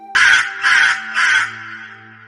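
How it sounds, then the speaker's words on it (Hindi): A black crow gives three loud, harsh caws in quick succession, each rasping call evenly spaced and close, the last fading into a faint tail. "कौवा जोर जोर से चिल्लाने लगा"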